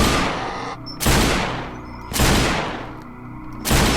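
Three loud, close .44 Magnum gunshots fire in the video game Remorse: The List, each a sharp boom with a long decaying tail, spaced roughly a second apart.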